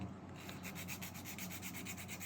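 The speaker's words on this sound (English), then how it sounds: "I'm getting braver here with my sanding" Steady rhythmic scratching of a fingernail sanding stick rubbing back and forth on laser-cut wood parts of a model boat, close up and fairly quiet, with no talking.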